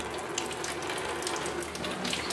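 Coolant gushing steadily out of a car's cooling system during an SR20 engine swap, a continuous close splashing pour like running tap water with no pauses.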